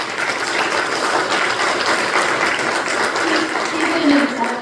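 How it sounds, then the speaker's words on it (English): Audience applause at a preservation society's annual meeting: a steady wash of clapping from a crowd indoors, held evenly for several seconds without a break. "So our Endangered Committee needs a round of applause"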